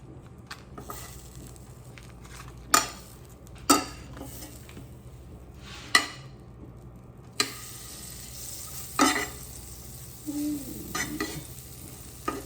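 Butter sizzling and frying in a hot pan while a cheesesteak bun is toasted, a steady low crackle broken by sharp utensil clinks and scrapes against the pan, close and fairly quiet.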